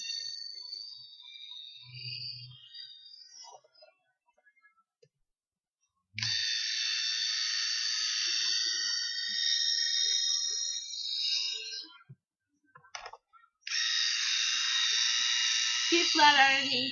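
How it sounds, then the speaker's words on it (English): An Instyler rotating hair straightening iron runs on mixed-texture hair, giving off a high, buzzing whir in two long bursts with short gaps of near silence and small clicks between them, quiet and close. "Next, she uses the Instyler to smooth the rest of the strand."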